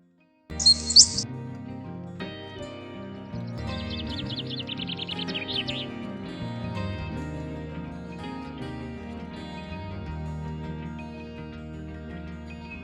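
Small birds being fed in a park give a burst of high chirps early on, then a quick trilling run of calls, while steady tonal music plays underneath throughout.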